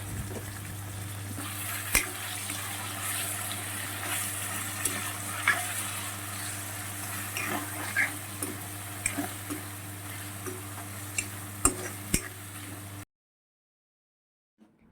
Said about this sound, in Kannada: ಇವಾಗ ಹಚ್ಚಿಟ್ಕೊಂಡಿರೋ ಟೊಮೆಟೊ ಹಾಕೋಣ. ಅದನ್ನು ನೀಟಾಗಿ ಕಲಿಸ್ಕೊಳ್ಳಿ. ಫ್ರೈ ಆಗೋ ತನಕ ಬಿಡಿ ಒಂದು ಸ್ವಲ್ಪ ಹೊತ್ತು.